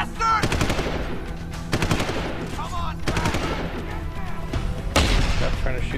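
Bursts of machine gun fire in the Deus Ex Human Revolution video game, several sharp rattling volleys in quick succession, loud and close, with a final heavy blast near the end.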